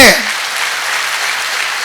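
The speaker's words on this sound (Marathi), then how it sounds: "जोरदार टाळ्या होत्या एकदा पुन्हा भाऊसाठी" An audience claps in a dense, steady burst at a public speech in Marathi, loud and sustained throughout after a brief voice at the start.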